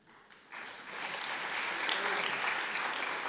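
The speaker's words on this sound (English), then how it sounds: "He must be here, they're clapping." An audience claps at a college opening day gathering: applause swells in after a quiet moment and holds as steady, dense clapping from many hands for the rest of the stretch.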